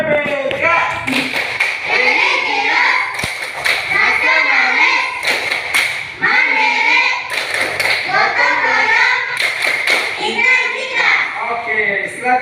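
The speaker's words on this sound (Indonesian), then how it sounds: "Tunjukkan semangat kalian lewat tepuk pepe" A class of children does a rhythmic 'tepuk pepe' clap routine, sharp bursts of unison clapping alternating with loud chanting and shouting voices, energetic and close.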